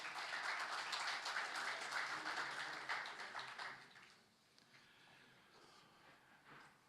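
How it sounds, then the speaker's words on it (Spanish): Applause from an audience at a cooperative anniversary event, many hands clapping steadily and fairly faint, fading out after about four seconds into quieter room noise with a few scattered claps. "Más fuerte los aplausos, por favor."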